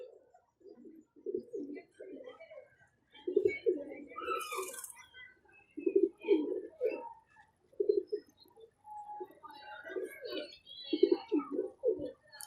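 A young Sandhuri pigeon coos in repeated low, throaty bursts, close by, with a few faint chirps and brief rustles between phrases and no talk.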